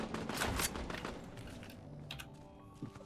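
Gunshots in a video game: a quick cluster of crackling, rapid shots at moderate volume, thinning into scattered clicks and a few later pops, with no voices.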